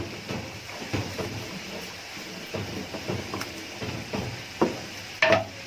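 Ground tomato masala, about a kilo of puréed tomatoes, frying in a pot for aloo chicken shorba, with a bubbling sizzle and repeated stirring scrapes and knocks, ending in a few sharper clinks.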